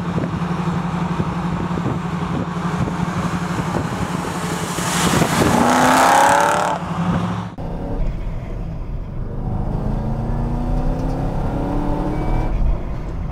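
A race car engine revs and accelerates hard nearby, a loud sustained roar that climbs in pitch, peaks, cuts off abruptly, then settles into a lower idle with further revving.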